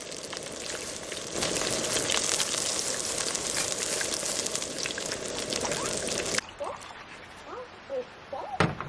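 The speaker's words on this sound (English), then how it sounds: "listening to the sound of rain and the nearby river" Steady rain patters over a constant rushing of a nearby river in the Smoky Mountains, loud at first, then dropping to a quieter wash with scattered drips and faint chirps.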